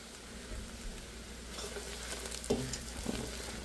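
Onions fry in ghee until browned, a soft continuous sizzle close by with light stirring scrapes and a couple of small knocks of a spoon near the end, fairly quiet and without speech.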